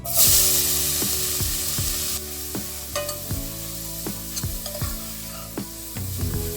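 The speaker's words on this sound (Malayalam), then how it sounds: "നമ്മൾ ഈ സെയിം നെയ്ക്കകത്തോട്ട് ഗ്രേറ്റ് ചെയ്ത് വെച്ച ക്യാരറ്റ് ഇട്ട് കൊടുക്കാം" Grated carrot dropped into hot ghee bursts into a loud sizzle that settles into steady frying, broken by repeated scraping stirs of a spoon against the pan.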